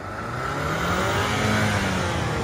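A Ford Ranger pickup in four-high with traction control off accelerates in snow, its engine droning steadily and rising slightly as the rear wheels spin, close and continuous with no talking.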